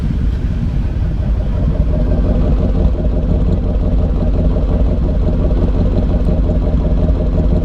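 A 1978 Ford Bronco with a 351M V8 idles steadily and close by, a low, even rumble with a faint regular pulse, holding constant and loud the whole time with no talking.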